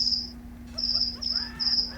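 Crickets chirp overhead in short, shrill bursts, close and clear over a steady low electrical hum, with faint bird-like calls mixed in briefly.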